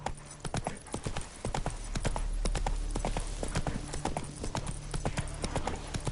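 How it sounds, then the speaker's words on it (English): Horse hooves pound at a gallop in The Witcher 3 video game, a rapid, even clip-clop rhythm heard close and steady throughout. "Run, Roach."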